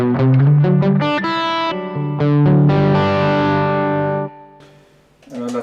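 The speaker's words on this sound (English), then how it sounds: "So if you want to use it as a drive pedal in front of your overdriven amp sound" A heavily overdriven electric guitar, played through a NUX Boostcore boost pedal into an overdriven amp, plays chords and single notes with thick, gritty distortion, ringing out before fading and picking up again.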